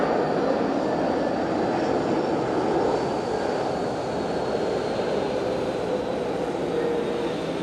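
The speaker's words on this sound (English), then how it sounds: "Just going to have this Peach landing." A Peach airliner landing at Fukuoka Airport, heard as a steady, loud broadband jet engine roar that holds evenly throughout without any voices.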